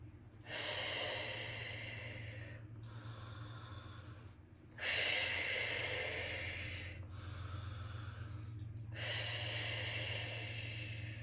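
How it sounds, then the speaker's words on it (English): Three slow, deep breaths drawn in and let out alone in a quiet room, each long inhale and exhale clearly audible and close, with brief pauses between them. "3 deep, deep breaths here"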